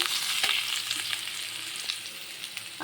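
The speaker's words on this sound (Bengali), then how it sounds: "আর এখন আমি আলু এখানে ঢেলে দিলাম, আলুগুলো দিয়ে দিলাম।" Steady hissing sizzle of pre-fried potatoes frying in hot oil, with a few soft clicks and scrapes from stirring, close by and fairly quiet.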